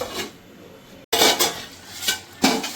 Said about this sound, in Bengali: এবার এটা ঢেকে দিই, 5 মিনিট লাগবে